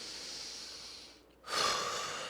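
A person takes a deep breath during a seated or standing wrist and grip strength flow: a soft airy exhale trails off into a brief pause, then a stronger close-up inhale rushes in, with no talking.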